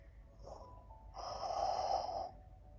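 Deep yogic breathing while holding the Ardha Chandrasana half-moon pose: a short soft breath, then a longer, steady, airy exhale lasting about a second, close and moderately quiet, with no talking.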